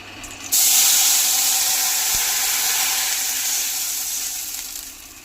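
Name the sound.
water added to hot pan sizzling, cooking hilsa fish curry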